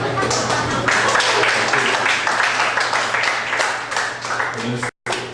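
Loud, sustained applause from a church congregation, steady clapping throughout that cuts off abruptly near the end.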